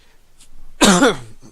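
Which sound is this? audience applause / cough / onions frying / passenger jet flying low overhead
cough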